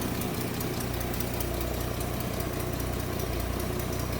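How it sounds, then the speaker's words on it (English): A 1959 Dodge Coronet four-door sedan's inline six idles with a mild exhaust and a small manifold exhaust leak, giving a steady, even low rumble with a faint ticking pulse, close and continuous with no talk. "nothing crazy over the top with that exhaust with the inline six"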